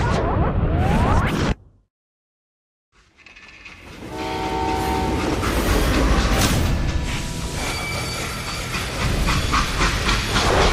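Freight train in the Call of Juarez: Gunslinger video game: a loud steam hiss cuts to brief silence, then the train rumbles back with a steady roar and a sustained horn-like tone, alone without voices.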